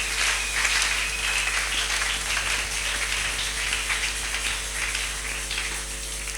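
A church congregation at a Sunday service applauds, a dense steady wash of many hands clapping that carries on for several seconds over a low constant hum.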